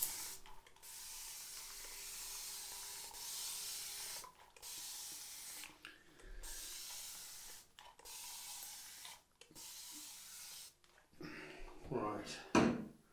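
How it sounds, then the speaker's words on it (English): Pre-shave spray misted onto a face in several hissing bursts separated by short pauses, close and soft, with a rustling handling noise at the end. "Let's get the spray on my face."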